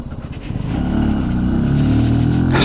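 A Benelli Tornado TNT 125cc motorcycle filtering through traffic, its engine note close and loud, holding a steady buzzing drone that rises slightly toward the end.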